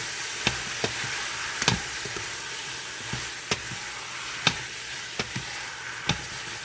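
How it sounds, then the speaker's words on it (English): Pork belly going into a pot for Filipino pork sinigang, with lemongrass already added, gives a steady close sizzle, broken by a handful of sharp knocks and clinks from the pan and utensils. "And I can put the pork right now, belly pork."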